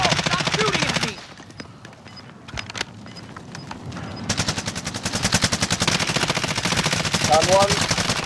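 Rapid automatic gunfire and single shots from a Call of Duty Warzone match, loud bursts with a brief lull, then a sustained fast rattle under a shouted player voice and game radio chatter.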